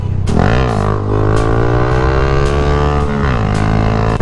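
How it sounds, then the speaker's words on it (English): A motorcycle engine revs hard during a wheelie, loud and close, its pitch climbing, holding high, then dropping back before rising again, with no talk. "Gotta do wheelies for the kids."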